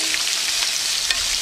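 Zucchini fries in avocado oil with a steady, close sizzle and crackle. It is a short, even burst with no talk.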